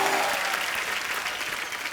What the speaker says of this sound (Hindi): एक बार अक्षय पाजी और रितेश के लिए जोरदार तालियां